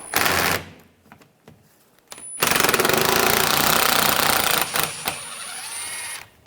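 A 10mm socket works bolts loose on a 2013-2016 Dodge Dart during a fog light bezel replacement, producing loud, close bursts of rapid mechanical rattling with brief gaps between them.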